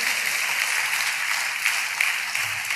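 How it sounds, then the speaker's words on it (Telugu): A church congregation claps together while praising God during a pastor's sermon. The clapping is moderate, continuous and even throughout the short stretch, with no voices over it. "చప్పట్లు కొడుతూ దేవునికి స్తోత్రాలు చెప్దాం"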